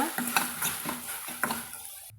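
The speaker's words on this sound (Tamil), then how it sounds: "சேர்த்தி நல்லா கலந்து விட்டுக்கலாங்க" Okra and tomato stirred in a pan, a few close scraping strokes of a spoon against the metal over a faint sizzle, ending abruptly.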